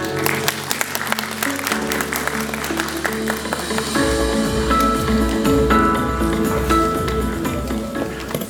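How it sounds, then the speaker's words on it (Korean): Audience applause at an international symposium on hooded cranes in Suncheon Bay, Korea, a steady crowd clapping that fills the hall for the whole stretch, with tonal hum and a few vocal sounds underneath. "큰 박수 부탁드립니다"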